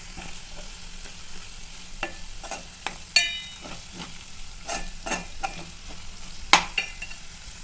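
Potatoes frying in a pan for aloo fry are stirred in after chilli powder is added, giving a steady soft sizzle broken by repeated scraping and clinking strokes of a spoon, with a few sharper knocks. No one speaks.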